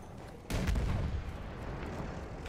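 A single rifle shot in Battlefield 1, set in the Ottoman Suez Canal battle, bursts out close and loud, then leaves a lingering wash of rumbling battlefield noise with no voices.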